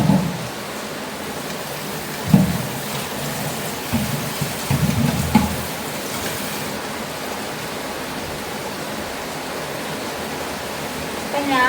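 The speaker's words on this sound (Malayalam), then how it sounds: "ഇപ്പൊ പാത്രം ഇപ്പൊ തന്നെ കൈയോടെ വെള്ളം ഒഴിക്കും" Water poured by hand into a cooking pot, a splashing, rushing pour heard in short bursts around the middle, under steady broadband background noise.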